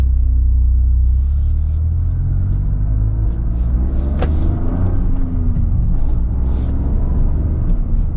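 A manual Toyota GR Corolla Premium gives a loud, steady low engine rumble from inside the cabin, holding fairly even throughout with slight rises in revs.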